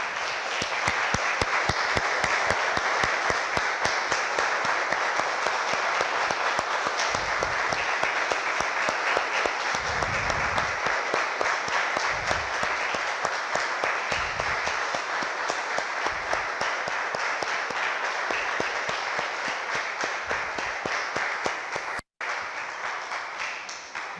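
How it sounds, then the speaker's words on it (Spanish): A church congregation applauding, dense sustained clapping from many hands in a large room that holds steady for about twenty seconds before an abrupt cut, then a brief tail of scattered claps. "Damos un aplauso, hermanos,"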